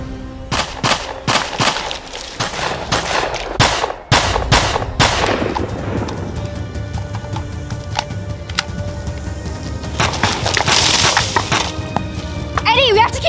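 A film shootout opens with a rapid burst of loud, close gunshots, then a heavy blast, followed by lingering rumble and scattered crackling while voices shout over it.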